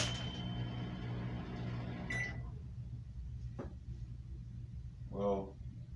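Microwave oven running with a steady hum that stops partway through, followed by a sharp click and a short beep near the end.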